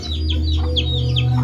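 Several chickens cluck in short rising calls about every few tenths of a second, close by over a steady low hum, at a backyard poultry breeding pen.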